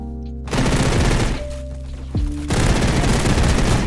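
Rapid automatic MP7 fire in the Roblox shooter Energy Assault, loud and close, with sustained bursts broken by brief pauses and a single descending shot mid-way, then firing resumes steadily to the end.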